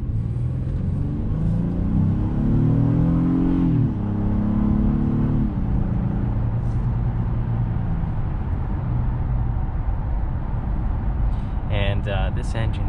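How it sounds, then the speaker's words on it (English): A 2021 Honda Passport's V6 engine rumbles steadily while driving, with a rising rev swell in the opening seconds before settling into a constant low drone; no one speaks over it. "And this engine is very nice. It's a V6 and it sounds amazing."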